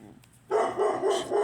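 Pet dog barking indoors at home: after a quiet moment, a run of four moderately loud barks in quick succession, close to the listener.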